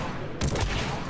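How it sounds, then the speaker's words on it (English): Shotgun fire in the video game Mass Effect 3 bursts out partway through, a loud, sharp blast over a low background. "Or that was a shotgun, yeah."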